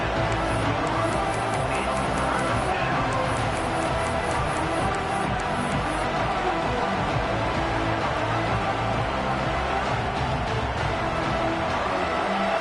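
Football stadium crowd noise during an LSU at Penn State game, a dense, continuous roar of many voices cheering for the home defense near the red zone, steady and loud throughout.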